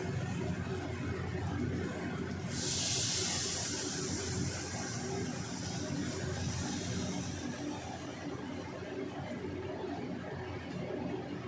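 Water poured into a hot pan of rui posto masala bursts into a loud hiss that fades into a steady sizzle and bubbling on the stove.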